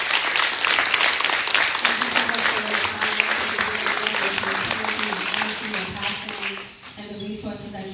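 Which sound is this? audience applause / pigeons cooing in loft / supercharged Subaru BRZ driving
audience applause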